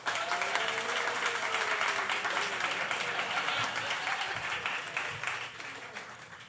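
A raucous debate audience applauds and cheers steadily as a guest is called to the stage, dense clapping filling the hall and fading slightly toward the end.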